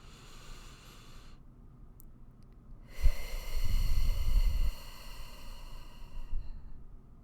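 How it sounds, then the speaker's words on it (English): One deep breath, a sharp nasal inhale and a long, close exhale, heard alone against a quiet background. "take a deep breath with me"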